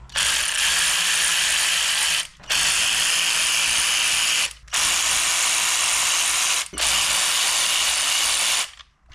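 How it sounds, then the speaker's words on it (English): Ratchet unbolting the climate controls from a right hand drive Mazda MX5 NC dashboard, four long bursts of rapid close clicking separated by short pauses. "Next thing we're going to do is unbolt climate controls off of here."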